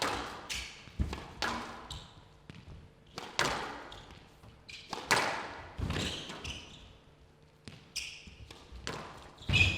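Squash ball struck during a rally at a professional tournament, sharp thuds and cracks off racket and walls in an irregular rhythm, heard clearly at moderate distance with faint crowd ambience and squeaky shoes.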